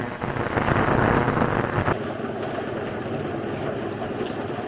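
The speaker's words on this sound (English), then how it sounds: "the tumblers are louder than the motor" A homemade rock tumbler driven by a Yae Tek DC motor churns out a dense rattling, gritty clatter that cuts off abruptly partway through, leaving a softer steady rumble behind.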